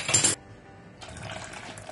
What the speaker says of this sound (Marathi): आत्ताच आपल्याला पाहिजे तितकं पाणी घालूया